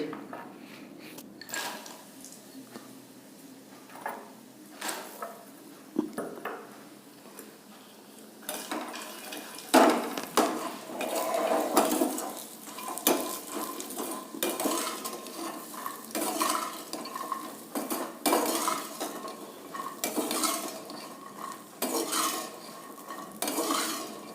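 Fox nuts (makhana) frying in leftover ghee in a pan while a utensil stirs and scrapes them, producing a continuous close rattle with clinks and soft sizzling and no talking.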